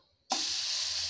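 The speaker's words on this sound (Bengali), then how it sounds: "আর এই একটু তেজপাতা ফোড়ন" Bay leaf drops into hot oil with cumin tempering and bursts into a sudden loud sizzle, which then holds as an even, close hiss.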